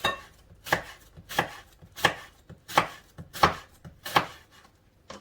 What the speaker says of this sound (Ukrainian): А тепер беремо і швиденько нарізаємо наші яблучка ломтиками